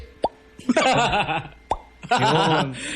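A voice imitates a wine bottle's cork popping out, giving short sharp mouth pops, each followed by voiced, laughing sounds, two times in a row.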